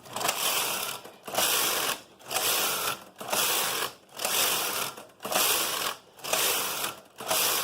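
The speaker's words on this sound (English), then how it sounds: "this card reader has a very solid sound to its advance" A KnitKing bulky knitting machine's punch-card reader whirs and clacks about once per second, a steady machine cycle with a solid, ratcheting advance at each beat.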